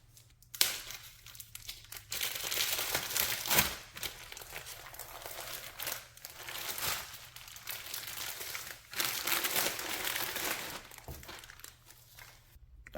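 Plastic packaging around a 15-pound grocery-store brisket being torn open and crumpled, with steady close crinkling and ripping bursts over about thirteen seconds and no talking.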